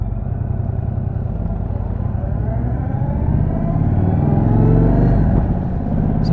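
A motorcycle being run in while riding around town gives a continuous, loud low engine rumble that rises slightly partway through, with no voices.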